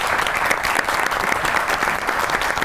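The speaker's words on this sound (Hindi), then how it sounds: "पहले तो पाकिस्तान टीम के लिए ताली बजाइए।" Studio audience at a comedy show applauding for the Pakistan cricket team, a loud, dense, continuous roar of clapping throughout the short clip.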